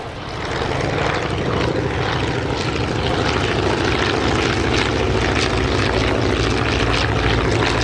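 An Avro Anson Mk.I twin-engine propeller aircraft passes overhead at an air festival, with a loud, continuous droning engine roar and a throbbing propeller beat that holds steady throughout.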